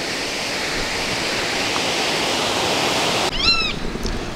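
A small spring-fed waterfall about two feet high at a dammed stream in Del Rio, Texas, pours with a steady broadband rush, close and continuous; near the end a bird chirps briefly over the water.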